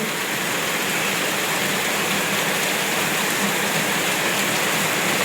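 Heavy rain pours steadily at home on a Monday, a dense, unbroken hiss of water that stays loud and even throughout with no voices.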